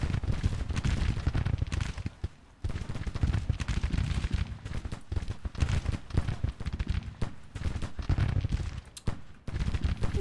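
Massed musket volleys ring out in a Civil War battle in northern Virginia in the strategy game Grand Tactician, with dense, overlapping cracks rolling continuously and a brief lull partway through.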